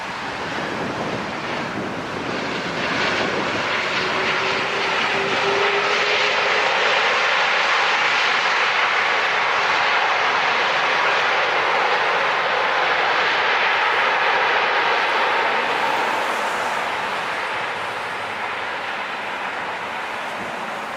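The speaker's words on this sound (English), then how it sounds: "Beautiful A330." An Airbus A330 jet airliner passing at Los Angeles International Airport, a loud continuous engine roar that swells and holds for most of the stretch, then eases slightly as it moves away, with steady wind noise underneath.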